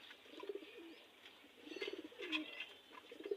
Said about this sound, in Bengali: আর এখানে আমার বেজি কবুতর আছে এক জোড়া